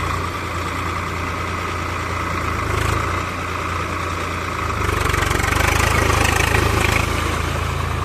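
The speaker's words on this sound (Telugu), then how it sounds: "ట్రాక్టర్ తోటి మెత్తటి బురదలాగా చేస్తారన్న కదా" A tractor engine runs steadily while puddling a muddy rice paddy into soft slush, a continuous low idling drone that swells slightly louder partway through, with no voices.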